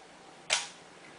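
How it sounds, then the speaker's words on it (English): A DSLR camera shutter firing once, a single sharp mechanical click with a short fading tail, close and isolated in a quiet room. "now it takes the picture"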